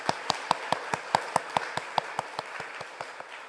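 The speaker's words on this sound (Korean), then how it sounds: "우리 큰 박수로 환영하겠습니다." Church congregation at a Sunday morning worship service clapping in welcome, sharp rhythmic claps in a steady beat that gradually fade, with no talking.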